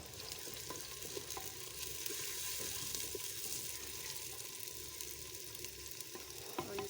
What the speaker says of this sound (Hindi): और इनको अब हम फ्राई होने के लिए छोड़ देंगे।